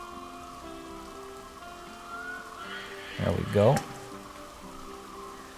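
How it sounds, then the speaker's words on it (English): Rain begins to fall in the zoo-building game Planet Zoo, a soft steady patter under gentle background music, with a person speaking briefly over it. "Oh, it's starting to rain."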